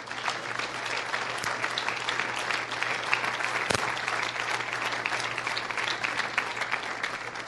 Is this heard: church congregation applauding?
yes